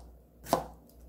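A knife slicing through a pickled cucumber (oiji) into rounds on a cutting board, a single crisp close chop in an otherwise quiet room.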